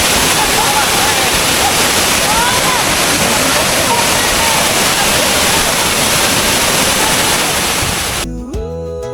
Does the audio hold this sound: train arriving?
no